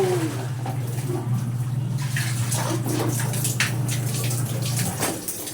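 Water gushes and splashes steadily as laundry gets its third rinse, a close, continuous sloshing with a low running-water hum underneath that cuts off near the end, followed by a few scattered drips and splashes.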